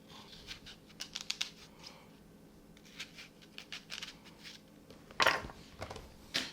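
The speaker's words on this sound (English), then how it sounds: "So I'm just taking the core out." A knife cuts the core out of halved apples, giving soft close scraping and crisp slicing clicks in irregular bursts, with a louder crunch toward the end.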